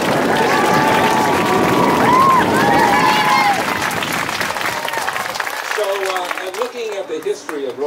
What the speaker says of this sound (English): I think that we need to give a real round of applause to Mr. Ebert, the committee